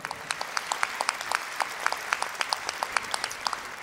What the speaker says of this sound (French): président Élie Korchia, maître Élie Korchia, que l'on peut applaudir très fort,